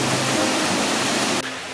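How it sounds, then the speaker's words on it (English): A waterfall in Nova Scotia roars as a loud, steady broadband rush of falling water, close to the listener, with a slight drop in level near the end and no talk. "there's another waterfall"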